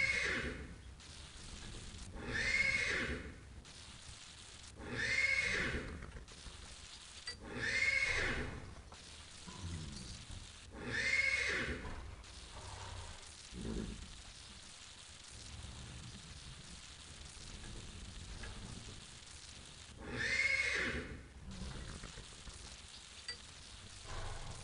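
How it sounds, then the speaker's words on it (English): A garden hose sprays water over a horse in the Pippa Funnell stud farm video game, a soft continuous hiss running throughout beneath a series of loud, repeated horse whinnies that come every few seconds. "You must keep the mouse button pressed down and direct the water towards the horse."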